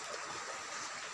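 A stream flows in a steady, soft rush of water, faint and continuous, heard alone in a short moment outdoors.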